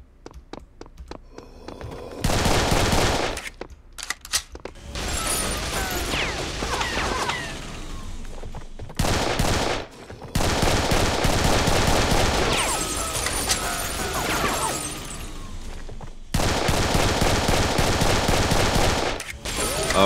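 Sustained enemy gunfire in the Serious Sam video game: long bursts of rapid automatic shots and crackling volleys, loud and close, with a few brief pauses between barrages.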